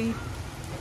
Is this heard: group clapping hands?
no